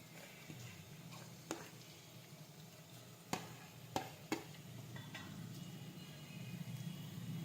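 Chopped tomatoes for brinjal bharta sautéing in a pan, a soft low sizzle with a few sharp clicks and taps of a spoon against the pan, fairly quiet and close.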